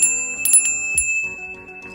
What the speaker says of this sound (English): Please take this bell, ring it 3 times like this.